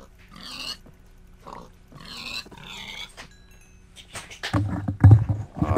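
Minecraft pigs give several clear, close grunts and oinks in quick succession, followed by louder thumping blows near the end.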